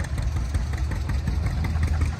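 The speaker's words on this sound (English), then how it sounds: "So they just fired up the John Deere over there." A John Deere tractor engine idles steadily at a tractor festival in Spring Valley, Ohio, a continuous low rumble with even loudness and no talk over it.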